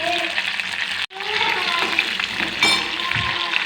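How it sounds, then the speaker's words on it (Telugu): Green chillies fry in a pan for a tomato chutney rasam, giving a loud, continuous hissing sizzle with a brief cut and a burst of spattering near the end. "పచ్చిమిర్చి వేసుకొని ఫ్రై చేసుకోవాలి కొంచెం"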